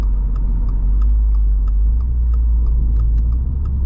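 The turbocharged engine of a 2022 Subaru WRX GT with performance transmission gives a steady, deep drone heard from inside the cabin, with faint regular ticking above it and no talk.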